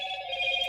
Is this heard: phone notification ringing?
yes